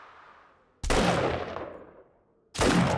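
Gunshots from shooting zombies in 7 Days to Die, two loud sharp blasts about a second and a half apart, each fading with a decaying tail, no voices.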